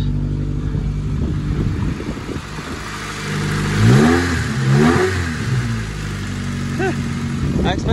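Car engine with a rod knock, running steadily throughout, with a brief rise in revs midway; a person speaks over it at times.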